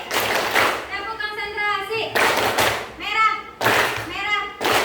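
Schoolchildren in a fourth-grade classroom play a rhythmic clap game, quick bursts of clapping alternating with chanted call-and-response voices, repeated three times, loud and close.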